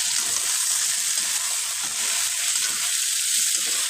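Broiler chicken meat frying in a pan gives a steady, even hiss of sizzling oil, moderately close and unbroken, with no voices.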